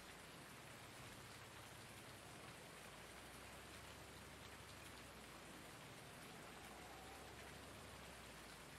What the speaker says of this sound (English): It's definitely the first day I've seen rain on the server.